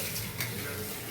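Chicken pakodi dropped into hot oil for deep frying, giving a brief, steady hiss of bubbling oil heard close and without speech.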